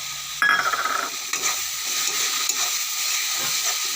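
Chopped tomato drops into frying masala with a sudden loud burst of sizzle, followed by a steady hiss and intermittent spatula scrapes as it is stirred.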